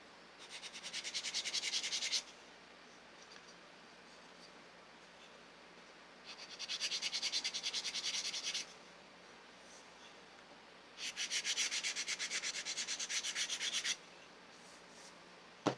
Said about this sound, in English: This needs a little bit of sanding.